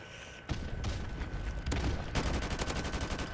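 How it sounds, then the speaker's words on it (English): An MP5 submachine gun in a shooter game fires in several loud, rapid bursts with overlapping shots and echoes, somewhat distant and layered with other game noise. "That guy must have been close, because he used an MP5."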